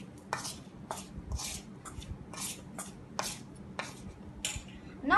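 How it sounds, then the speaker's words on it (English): A spoon or whisk mixes cake batter with sugar in a bowl, giving soft scraping strokes and light taps against the bowl at an uneven rhythm, close up and fairly quiet. "Mix it well."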